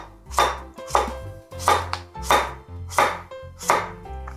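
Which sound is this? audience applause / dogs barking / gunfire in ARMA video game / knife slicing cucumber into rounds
knife slicing cucumber into rounds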